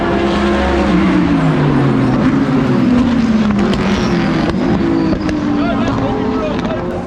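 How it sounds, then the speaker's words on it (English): GT race cars, Porsches and Lamborghinis, circle a track, engines droning loudly with shifting pitch as they pass, mixed with steady background noise and a voice talking over them. "Nice to see some of those GT cars going around, the Porsches, the Lambos, and some of those cars."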